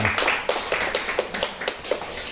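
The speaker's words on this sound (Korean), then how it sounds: "우리 박수로 환영합니다." A church congregation claps to welcome back a returning member, a steady patter of many hands with a few sharper accents, lasting the whole moment.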